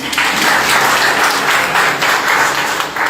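Audience clapping at an anti-drug pledge event in Dhanbad, a dense steady wash of many hands that stays loud and even for the whole stretch.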